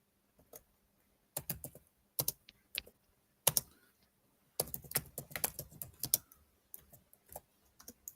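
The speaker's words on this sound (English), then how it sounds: "I can't type that quick." Bursts of quick keystrokes on a computer keyboard, clustered clicks separated by short pauses, close and fairly quiet with no voices.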